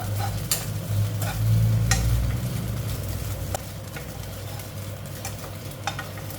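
Fried tilapia being dry-roasted and stirred in a pan, a loud close sizzle with repeated scraping strokes of a utensil at a steady rhythm, no talk.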